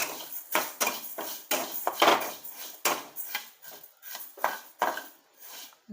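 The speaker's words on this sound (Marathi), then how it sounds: "ही मेथी आपण व्यवस्थित भाजून घ्यायची जास्त पण नाही पण थोडीशी भाजून घ्यायची" Fenugreek seeds for mango pickle are dry-roasted in a pan, heard as irregular close clinks, taps and scraping knocks against the pan. The sounds come in short bursts with quiet gaps between them.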